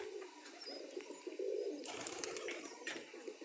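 Pigeons on a rooftop coo in soft, repeated throaty calls, fairly close, with light flutters and chirps mixed in over steady outdoor background noise.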